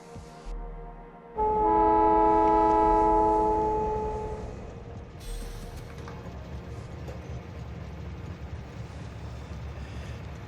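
Train in Factorio with an Angel/Bobs mod setup, a loud sustained horn-like tonal blast starting abruptly, then fading into a steady rolling rumble of the moving train.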